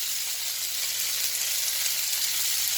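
Sausages frying in a pan during a fry-up, a dense, steady hissing sizzle throughout, close and fairly loud with no voices.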